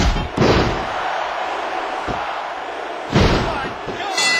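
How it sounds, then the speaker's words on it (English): In a wrestling video game, a sledgehammer lands with heavy slamming impacts, two or three loud thuds over a roaring arena crowd, with voices talking over the noise. "What an impact from that sledgehammer!"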